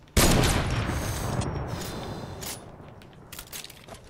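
A sniper rifle shot fires in the video game Fortnite, one loud sharp blast with a long rumbling tail that slowly fades, then a few faint clicks follow.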